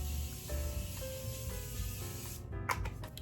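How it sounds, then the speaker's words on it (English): Morphe setting spray misted onto a face in a makeup routine: a string of short, soft hissing bursts about every half second, close and fairly quiet, ending in a brighter final spritz. "So first go in with the Morphe setting spray again."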